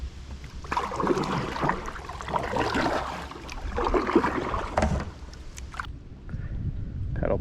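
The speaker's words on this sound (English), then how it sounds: "Paddle through some duckweed on the way back." Canoe or kayak paddle strokes dipping and pulling through duckweed-covered water on Lake Ovid in Sleepy Hollow State Park, soft rhythmic splashes and swishes up close with light wind buffeting, a voice speaking briefly.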